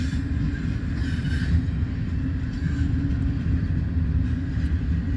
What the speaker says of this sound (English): this is a westbound on the Transcon line